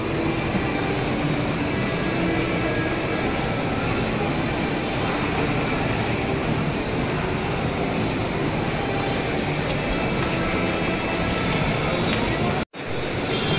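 A train roars past nearby, a loud, steady rumble that fills the whole stretch and cuts off abruptly near the end.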